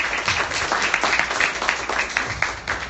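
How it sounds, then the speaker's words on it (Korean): Applause from an audience welcoming a student performance by Ansan high schoolers at a school gathering: a dense, continuous round of many hands clapping, moderately loud, with no talk over it. "큰 박수로 맞이해 주시기 바랍니다"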